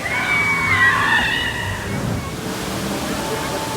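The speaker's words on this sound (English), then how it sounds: "Next up, a highly recommended log flume ride." Water rushes and sloshes on a log flume ride at Universal's Islands of Adventure, a loud continuous roar of churning water with a faint high squeal early on.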